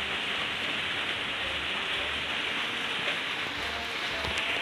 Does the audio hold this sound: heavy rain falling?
yes